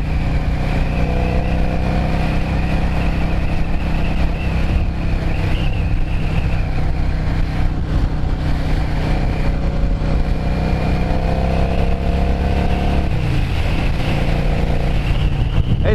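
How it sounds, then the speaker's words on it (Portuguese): A black, chrome-trimmed 2003 Yamaha Drag Star 650 motorcycle on a test ride, its engine droning loudly and steadily throughout with a brief dip in pitch near the end, wind rush mixed in. "a moto do professor, uma Dragstar 2003"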